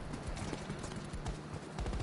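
Hooves clip-clop in a steady rhythmic trot, fairly close, over a noisy outdoor background.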